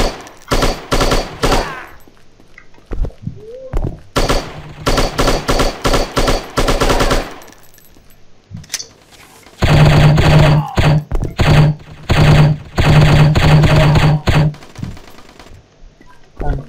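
AK rifle gunfire in a shooter video game, loud sustained automatic bursts in several clusters separated by short pauses, with a denser stretch of rapid firing late on; faint speech-like sounds appear between bursts.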